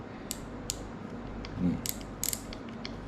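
Short bursts of mechanical clicking from a FishBand Clamber fishing reel's drag, scattered and uneven, with a faint creak in the middle, close by and fairly quiet.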